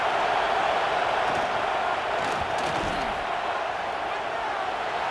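A loud, sustained roar from a large stadium crowd at a football game during a field goal attempt, a dense wall of voices holding steady throughout with faint shouts rising from within it.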